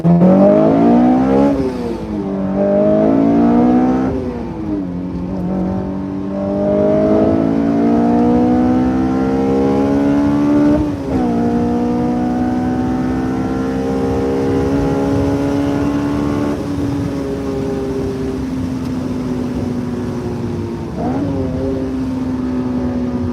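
A 2023 Honda Civic Type R engine revs hard through VTEC, its harmonics sweeping up and shifting through gears, then holding a rising high-rpm drone; close and loud for over twenty seconds with no talking.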